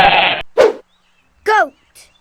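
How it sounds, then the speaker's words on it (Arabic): A goat bleats in a few short, loud, close cries separated by brief silences, following an opening burst of noise. "goat"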